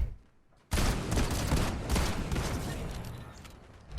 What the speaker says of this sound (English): you're short of getting the kill with the Gatekeeper shotgun.